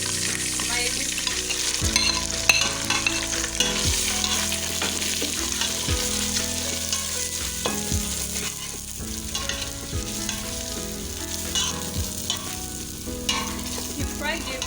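Egusi seeds fry with a steady close sizzle in a pot, a spoon scraping and stirring through them in regular strokes, with no talking.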